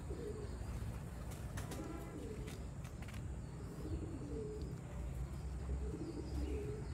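Colonel breed pigeons coo softly in a loft, with low repeated cooing phrases and faint chirps over a steady, quiet outdoor background.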